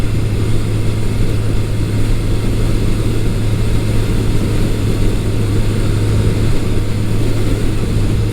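A restored 1983 Suzuki GS1100E motorcycle engine drones steadily on a test ride, a loud constant low hum with wind rush and no pauses or speech.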